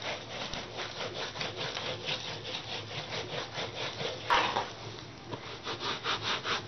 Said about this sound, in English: just take the cloth and clean it like this